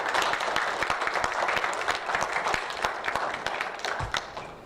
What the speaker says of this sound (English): give those guys a massive big clap